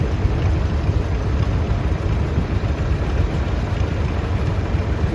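A 1951 John Deere G tractor rolls past in an outdoor parade of power at a tractor show. Its engine gives a steady, loud, close rumble with no talking.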